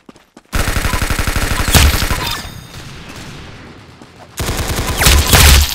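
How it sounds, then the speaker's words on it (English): Rapid bursts of gunfire in a shooting game, loud and close, with a fast rattling volley, a quieter gap, then a second burst of rapid shots. "Very good shooting."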